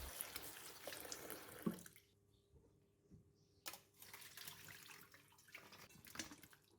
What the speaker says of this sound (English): Put the squid in the basin and rinse it with water.